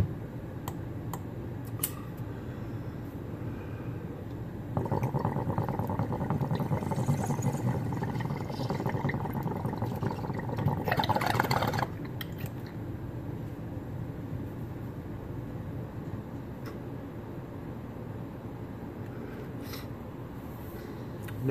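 Hellraiser OG cannabis is smoked from a water pipe, a steady bubbling gurgle lasting several seconds over a low background hum, close by, with no talk.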